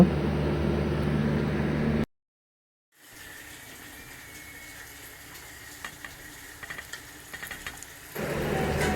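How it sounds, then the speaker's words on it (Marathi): Onion sizzling in a pan with garlic and ginger, a steady broadband fry before and after a brief silent gap, with a softer crackle in between and a few light stirring clicks. "लसूण आणि आलं जरा लाल झालं की नंतर त्यामध्ये जरा थोडा कांदा टाका आणि कांदा तो पण परतून घ्या जरा लालसर होईपर्यंत"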